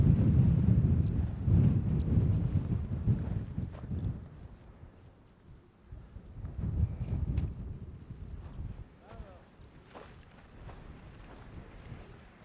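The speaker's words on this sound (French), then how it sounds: "Ah, il y a du vent là." Cold, dry wind gusting across the Col de Pal on a mountain hike in the Mercantour, low rumbling buffets on the microphone that swell and fade in waves, with no talking.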